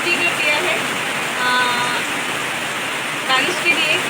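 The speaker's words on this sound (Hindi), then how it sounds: "चारों तरफ बारिश ही बारिश है 3 दिनों से" Heavy monsoon rain falls steadily outside a home in a continuous broad wash of hiss and patter, loud and even throughout, after three days of nonstop downpour.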